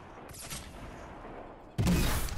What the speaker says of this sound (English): It's time to try out our grenade launcher